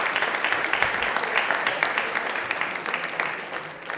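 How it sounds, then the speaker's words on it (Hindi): Steady, dense applause from a television quiz show audience, clapping continuously at an even level throughout. "तालियां एक बार ललिता के लिए जोरदार हो जाए।"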